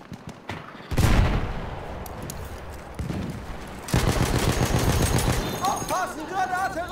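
Anti-tank rifle fire in the World War I shooter Battlefield 1, with loud heavy gunshot blasts around one and four seconds, each followed by rumbling battlefield noise and scattered distant gunfire.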